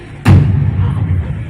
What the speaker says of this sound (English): Yeah, that was definitely a cannon.